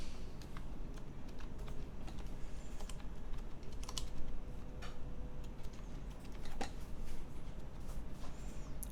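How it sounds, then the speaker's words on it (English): Spacebar typing test on a CannonKeys CK980C mechanical keyboard with caps removed, brass plate and stock EC stabilizers; a steady run of light, quick clacks and ticks, close and clear, with no talking. "No cap typing test, surprisingly difficult. Just spacebar."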